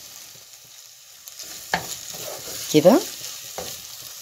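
Minced garlic frying in a pan, a soft sizzle under a few distinct stirring scrapes and knocks, with a single brief word spoken.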